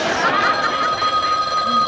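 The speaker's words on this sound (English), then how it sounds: "Oh, God, I'd like to hit that phone with an axe." A telephone bell rings steadily in an indoor living-room setting, a sustained ringing tone over faint room noise.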